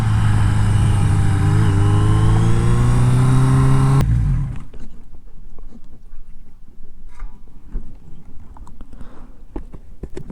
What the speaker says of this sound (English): Definitely a fun bike to wind out.